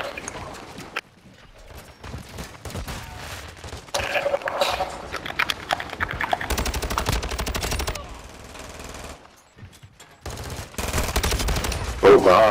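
Video game shootout with rapid gunshots in several bursts, some loud and close, broken by short pauses, with a player talking over parts of it.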